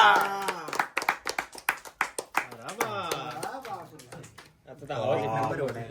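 A crowd of people claps at a birthday party in a home, bursts of applause mixed with loud overlapping voices, cheering and chatter close by.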